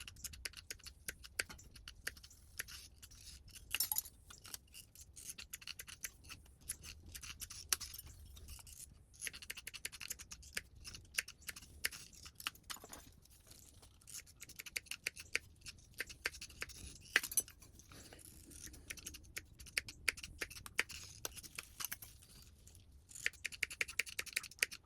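Snipping shears cutting copper and steel rose petals in a workshop, a long run of quiet, rapid, irregular metallic clicks and cuts close by with no talking.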